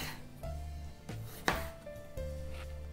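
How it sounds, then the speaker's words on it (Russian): A knife cuts the ends off an eggplant on a board, giving a faint kitchen scene with one crisp chopping thud and soft handling sounds. "Обрезаю концы"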